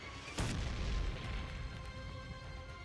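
Grenade explosion in Girls' Frontline: Neural Cloud: one sharp, loud blast near the start that rolls into a fading rumble over a steady background hum.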